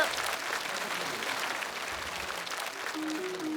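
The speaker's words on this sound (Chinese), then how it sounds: "请大家把掌声再次送给一聪" Audience applause for a stand-up comedian at a comedy show, a dense, even wash of clapping from a crowd, close and sustained throughout.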